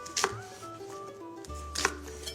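An onion is diced with a knife on a cutting board, two distinct close chopping strikes with a quiet pause between, faint and without speech.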